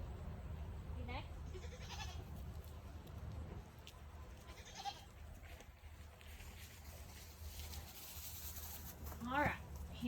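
Goats bleat at a small farm during routine goat care, several wavering, nasal cries spaced apart at moderate distance, with people talking in the background.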